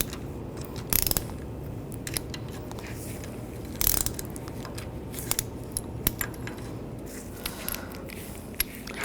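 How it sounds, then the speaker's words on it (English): A wrench tightening a strut mount nut on a Volkswagen Tiguan in a spring compressor, with quiet ratcheting clicks and light metallic taps, a couple of sharper clanks standing out over low workshop hum. "Once the shaft starts turning, we're going to use the wrench or the Allen key"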